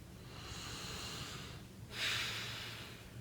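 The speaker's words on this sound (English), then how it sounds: "Big breath." A big breath during a guided tapping session: a soft, long inhale followed by a stronger airy exhale, close and quiet over faint low hum, with no talk.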